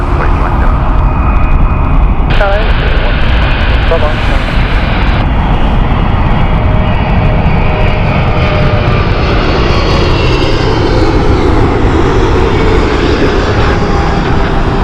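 Kuwait Airways Boeing 777-300ER arriving at Heathrow, its loud, steady engine roar filling the whole stretch with a broad rumble and a slowly shifting whine as the big jet approaches, with no one talking over it.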